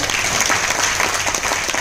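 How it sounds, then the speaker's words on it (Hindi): An audience bursts into loud, sustained applause for two presenters at an educational event, with dense clapping filling the whole stretch without a break. "ऐसे दिनेश सर के लिए और ऋतिका कार्य मैम के लिए एक जोरदार ताली हो जाए"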